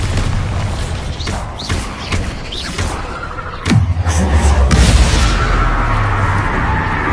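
A Bombarda blast spell in Hogwarts Legacy combat, a sudden heavy boom with a deep rumbling tail, preceded by lighter whooshing spell effects, loud and close.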